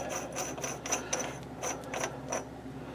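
Adjustable nut screwed onto the spindle end of a Logan lathe, giving a quick series of close, light metallic clicks and scraping ticks at an uneven rhythm.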